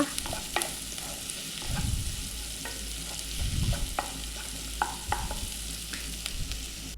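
Onions stir-fry in a pan for an egg fry, a close continuous sizzle broken by several scraping spatula strokes and occasional clinks against the pan, with no voices.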